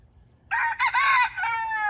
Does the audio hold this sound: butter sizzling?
no